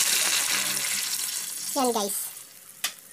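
Water poured into a pan of frying pork belly sets off a loud, steady hissing sizzle that eases toward the end, with a sharp clack near the close and a brief voice speaking over it.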